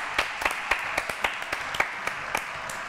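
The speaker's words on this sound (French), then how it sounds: "Applaudissements pour les trois invités, s'il vous plaît, public adoré." Sparse, scattered clapping from a small French television studio audience welcoming three guests on a talk show, a dozen or so sharp claps spread irregularly over a few seconds, fairly quiet.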